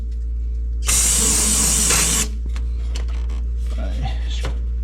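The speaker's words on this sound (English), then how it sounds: "Hose her off with some brake clean." Brake cleaner sprayed on the exhaust header of a 1965 Mustang being fixed for exhaust leaks: one loud hissing blast lasting over a second, then short clicks and scraping under a steady low hum, with someone talking.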